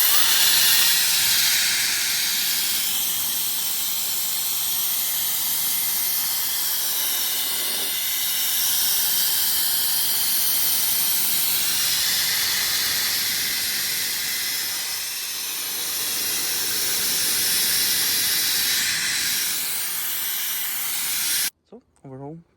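A mini turbo jet fan runs at full power outdoors on a balcony, a loud steady high-pitched rushing whoosh that holds for about twenty seconds before cutting off abruptly.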